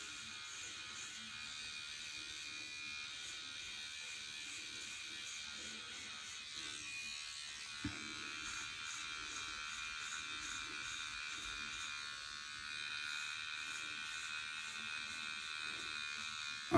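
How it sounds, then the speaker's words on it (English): Electric hair trimmers buzz steadily close by for the whole stretch while cleaning up a fade during a haircut, a continuous high whine with slight shifts in pitch as the blades move over the head. "I'm gonna take my other trimmers, these are trimmers, and I'm gonna make it a little bit more cleaner"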